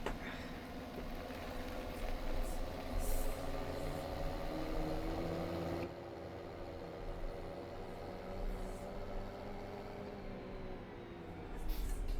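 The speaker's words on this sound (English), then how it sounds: "Right, go and put this tractor away." Continuous low rumbling idle of a tractor engine in Farming Simulator 17, holding a steady drone that drops slightly in level partway through, close and alone without talk.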